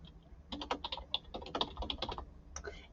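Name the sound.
typing a search on a computer keyboard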